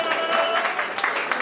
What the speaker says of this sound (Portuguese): salve de palmas pros moleques